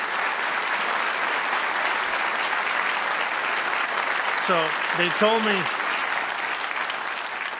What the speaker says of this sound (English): So to all of you, give them a round of applause.